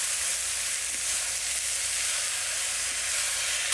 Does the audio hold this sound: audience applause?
no